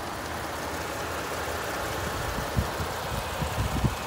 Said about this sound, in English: you got the EcoBoost engine there